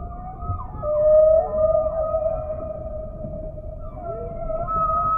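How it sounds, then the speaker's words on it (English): Humpback whale song in the South Pacific: long, tonal moaning calls that rise and fall, drawn out and fairly loud over a low underwater rumble. "The whales in different oceans have different songs."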